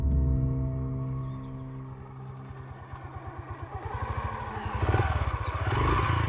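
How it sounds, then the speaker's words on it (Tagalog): A motorcycle engine starts and idles with a low, throbbing rumble, settles into a steady pulsing beat, then revs up as it pulls away. The sound stays close and fairly loud, with no talking over it. "Matapos ay sumakay na siya sa motor at pinaandar na yon."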